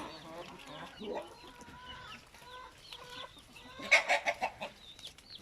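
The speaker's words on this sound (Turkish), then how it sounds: "Bizde tavuk çok arkadaşlar." Hens in a farmyard flock cluck softly and sporadically, then a short run of quick, rhythmic clucks stands out near the end, all fairly faint and distant.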